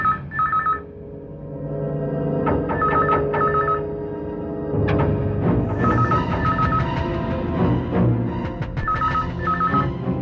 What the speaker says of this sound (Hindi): एक मिनट, मैं पुलिस को फोन करता हूँ।